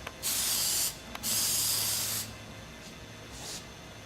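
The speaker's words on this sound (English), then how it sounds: "a small amount of dry graphite lubricant spray is applied to the" Dry graphite lubricant spray hisses from a can onto a FastGap clearance-adjustment mechanism in two loud, close bursts, then a fainter short puff, against a quiet background.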